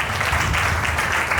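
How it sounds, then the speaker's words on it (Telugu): A church congregation at Sunday worship claps together in a dense, continuous burst of applause that fills the room, close and fairly loud, with no talk over it. "అందరూ చప్పట్లు ఒకసారి."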